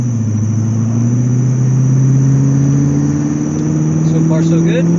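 A car fitted with a Quadrajet carburetor drives and accelerates, its engine note rising steadily as a loud, close rumble with a faint background whine.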